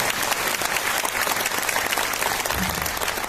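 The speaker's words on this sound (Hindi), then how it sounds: "वो काका हमारे अकेले ताली बजा रहे यार इस उम्र के अंदर।" A crowd at a program in Rajkot claps steadily and loudly, a dense wash of applause that continues without pause.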